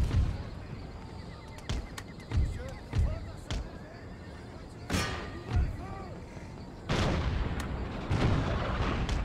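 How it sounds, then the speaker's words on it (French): Cannon artillery fire in a Total War battle, with repeated heavy booms landing at irregular intervals, horses whinnying between shots, and a dense roar of battle noise swelling near the end. "Mon canon, il a fait très peu de dégâts à l'ennemi."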